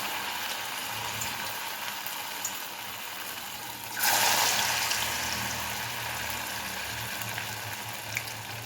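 Cornflour-slurry-coated rava snack pieces sizzle steadily in hot oil, a constant crackling hiss that swells louder for a few seconds partway through as more pieces go in, then settles back to an even fry.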